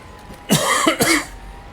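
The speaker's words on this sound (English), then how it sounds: "Oh, only one cough today" A single sharp cough, close and clear, made of two quick bursts in a quiet room with no talking.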